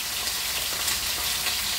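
Jerk pork pieces frying and browning in a pot, a dense, constant close sizzle with faint crackling and no voices.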